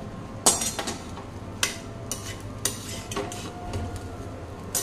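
A spoon scrapes and clinks against a pan as coriander is mixed into egg bhurji pulao, giving repeated metallic taps and stirring strokes, close and fairly quiet.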